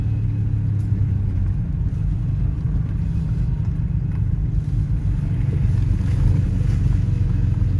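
A running 2000 Ford Ranger engine after repairs, a steady low rumbling drone heard from inside the cab, loud and continuous with slight roughness and no talking.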